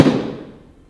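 A single sharp DIY bow shot heard from the target at 10 yards, a quick loud thump-like crack that fades over under a second.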